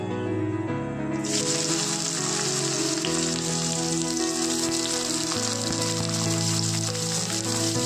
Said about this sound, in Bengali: কালো জিরেটা ভাজা হয়ে গিয়েছে, এবার আমি দিয়ে দেবো উচ্ছে আলু পেঁয়াজ একসাথে